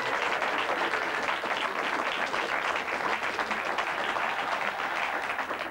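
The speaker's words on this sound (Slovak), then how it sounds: "Budeme pokračovať potleskom." Studio audience applauding on a Slovak comedy talk show, dense steady clapping that stays loud and continuous for about six seconds with no talking.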